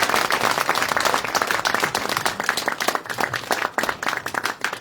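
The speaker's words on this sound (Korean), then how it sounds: "저희 최현진 활동가님께 큰 박수 부탁드립니다" Audience applause at a Korean public talk event: a dense patter of clapping from a room full of people, steady for a few seconds with no speech on top.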